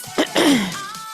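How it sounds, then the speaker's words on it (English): A single throat clearing: a short rough scrape followed by a longer, gravelly rumble, close and fairly loud. "Sorry, I keep clearing my throat."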